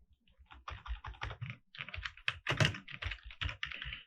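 Close, quiet clatter of fingers typing on a computer keyboard, with uneven bursts of keystrokes and brief pauses, no talk.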